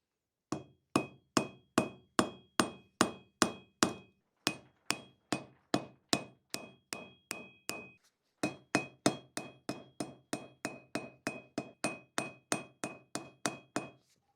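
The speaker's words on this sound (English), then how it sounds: "Now we heat it up and we set the rivets." Steady, ringing hammer blows set rivets on a hand-forged dragon candle holder, around forty strikes in three runs separated by brief pauses, close and metallic.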